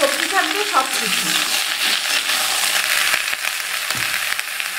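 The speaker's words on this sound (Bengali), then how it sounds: "মুলোটা লাল করে ভাজা হয়ে গেছে, তার মধ্যে সব সবজি দিয়ে দেব" Radish and mixed household vegetables fry and are stirred in a pan, a steady broadband sizzle running throughout with scraping stir strokes near the start and a few light clinks, close and fairly loud.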